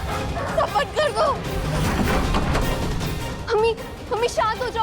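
Several dogs bark and yelp in rapid bursts inside a home during a tense TV drama scene, with agitated voices crying and talking over them throughout.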